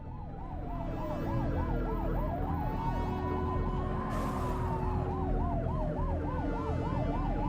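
A police car siren in the game The Precinct wails loudly and close, cycling through a rapid yelp and then a slower rising-and-falling wail over steady engine and road rumble.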